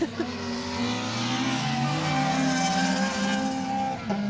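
Peugeot 207 rally car at full revs on a stage at Rali Menai, engine note howling steadily and loudly throughout as it screams around a corner, with faint tyre scrabble mixed in and no talk over it.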